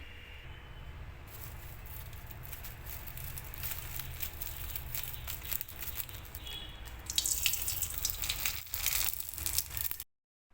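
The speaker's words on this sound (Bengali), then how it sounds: "এবার ভেজে দেখাবো তো পাঁপড়টা ভাজবো এখন" Sago papad crisps fry in hot oil with a steady crackling bubbling that swells louder and busier toward the end, close up with no talk.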